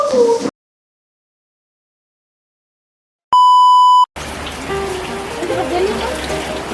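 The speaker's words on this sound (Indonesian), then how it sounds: "jadi hari ini kita kena kendala hujan" Rain falls steadily as a broad, hissing wash during the last two and a half seconds. A brief cut of a short scene comes first, then silence and a loud, steady electronic test-tone beep.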